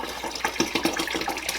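Blue RIT dye glugs and splashes out of submerged bottles into water, a close run of bubbly, irregular gurgles and pops over a soft liquid wash, with no talk.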